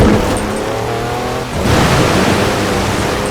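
A diesel car in the racing game Forza Horizon 4, 340 horsepower with heavy torque, drones loudly and steadily. The engine note dips briefly near the middle, then returns to a sustained roar, with no voices over it.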